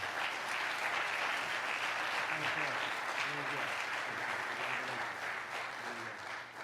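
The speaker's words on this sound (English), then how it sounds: "Give another hand for all our fathers, honorees tonight." Steady applause from an audience at an evening tribute honoring fathers, a dense, sustained patter of clapping that fades slightly at the end while a voice talks over it.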